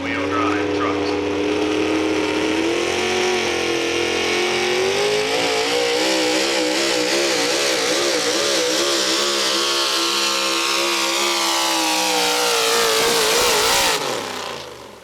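A two-wheel drive pulling truck at a truck pull event, its engine revving loud and sustained with a rising, wavering roar for about fourteen seconds before cutting off abruptly.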